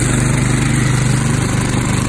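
Lumag MD500 engine running under throttle, a loud, close, steady mechanical drone with a rapid even pulse and a fixed pitch, nothing else heard.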